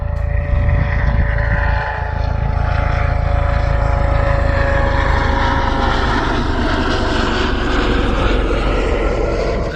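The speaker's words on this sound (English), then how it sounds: "try and get the drone up" A small camera drone flies over a fell wild camp, its steady propeller whine and drone holding close and loud, droning continuously for several seconds with no talk.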